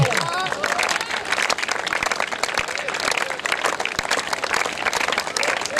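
Loud, sustained applause from a crowd at an ashram summer camp closing ceremony, dense clapping filling the whole stretch without pause.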